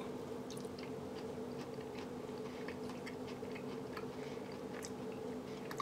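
Someone chews a bite of bourbon ball cake topped with chocolate ganache, soft moist mouth sounds ticking faintly and irregularly over a steady low hum, close and quiet with no talk.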